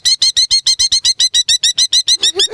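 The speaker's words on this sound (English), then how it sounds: "So the thing about Merlins is you hear them before you see them." A merlin falcon calls in a rapid, loud, close series of about sixteen sharp, evenly spaced chattering notes with no talk over it.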